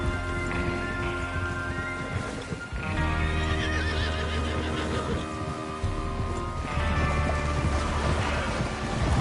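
Horses whinny and neigh repeatedly in Red Dead Redemption 2 while hooves clip-clop steadily underneath, close and loud throughout with a brief dip midway.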